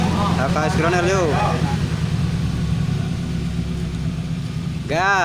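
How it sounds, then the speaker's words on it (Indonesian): A Suzuki Carry injection car with an HKS Gronel custom exhaust idles with a low, steady rumbling drone, near and constant, as someone speaks over it at the start and again near the end. "Yang kedua, HKS Gronel yuk."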